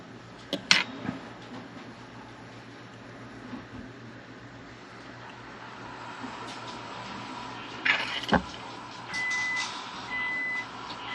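Two short, steady electronic beeps sound late on, over a constant low hum with a few sharp clicks and clatters earlier.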